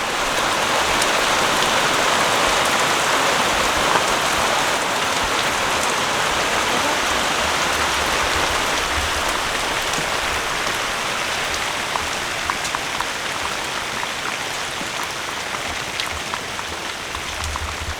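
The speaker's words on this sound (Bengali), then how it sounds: "আজকে হঠাৎ করে আবার বৃষ্টি শুরু হয়ে গেল" Steady rain pouring down onto surfaces outside during sweet-making in a home kitchen, a continuous dense hiss with scattered drip taps, moderately loud and unbroken for the whole stretch with no voices.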